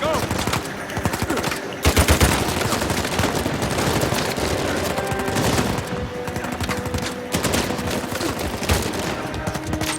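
Sustained, close gunfire in Uncharted 4, a dense chatter of automatic shots with heavier bursts throughout a battle din, without letup.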